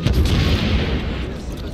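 The Guillotine Gun fires as a mortar in Assassin's Creed Unity, a single deep boom with a heavy rumbling tail that fades over about a second and a half, loud and close.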